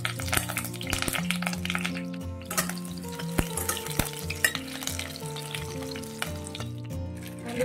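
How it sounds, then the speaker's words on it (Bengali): Potatoes frying in oil in a home kitchen pan, giving a continuous sizzle with occasional stirring scrapes and clicks under a low background hum. "এবারে আলুটা ভেজে নিই।"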